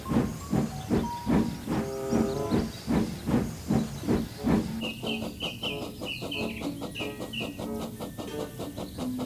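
Old Greedy, a steam engine hauling a goods train, sets off with loud, rhythmic hissing chuffs that quicken and merge into a busier run of clanking puffs and tonal squeals, with no talking.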